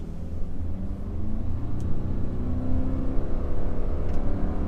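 A Subaru Impreza with a CVT revs under full-throttle acceleration, producing a steady, loud, droning engine whir and rumble that holds at one pitch rather than climbing, heard from inside the car with no talking.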